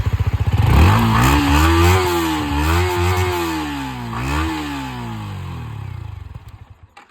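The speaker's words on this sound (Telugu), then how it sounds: "ఒకసారి ఇంజిన్ స్టార్ట్ చేసి చూపిస్తున్నాను" A 2023 Yamaha R15 V4 motorcycle with about 6,600 km on it starts up close by and revs repeatedly, its engine note rising and falling in several swells before settling back toward idle.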